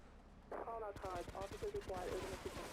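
Gunfire in GTA III The Definitive Edition, a rapid run of sharp shots trading back and forth under someone speaking Polish.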